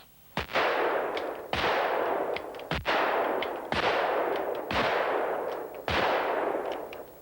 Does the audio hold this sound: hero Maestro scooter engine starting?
no